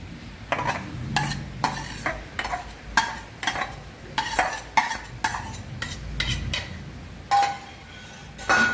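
A spoon stirs rava dosa batter mixed with finely chopped curry leaves and green chilli, making a run of rhythmic scraping and clinking strokes against the bowl, close and clear with no talking.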